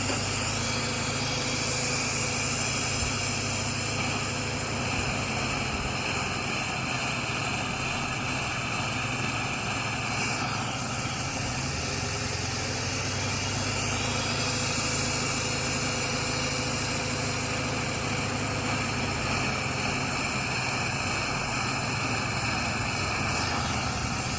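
A car engine idles steadily while Seafoam additive is slowly poured in, a continuous loud droning hum with slight wavering in pitch and no talking.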